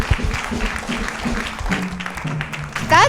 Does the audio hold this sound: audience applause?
yes